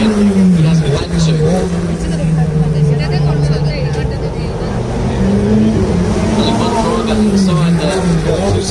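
A Ferrari Challenge race car laps the Singapore street circuit during qualifying. Its engine drone rises and falls steadily in pitch throughout, loud and close, with commentary voices talking over it.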